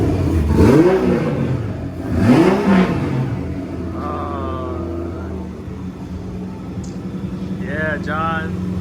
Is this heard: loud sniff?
no